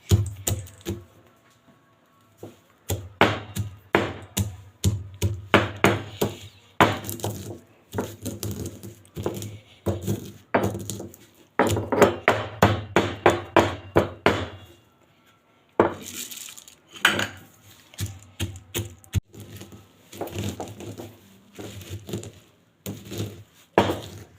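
Sharp, irregular pounding of garlic and peanuts in a mortar and pestle while making a spicy garlic chutney, with quick clustered strikes in bursts separated by short pauses, close and fairly loud with no talk.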